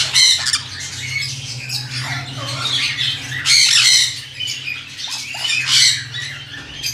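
Newly hatched baby birds from a pet bird breeding project squawk and chirp in repeated bursts close by, shrill and insistent, with a low steady hum underneath.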